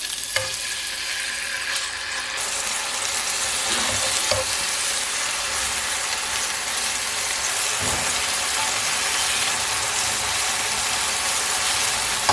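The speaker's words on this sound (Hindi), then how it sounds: "ऑयल हमारा गर्म हो गया, तो इसमें हम चिकन पीसेस डाल देंगे" Chicken pieces fry in hot cooking oil, a loud, steady broadband sizzle that holds for the whole stretch, with a few faint knocks of pieces being moved near the start.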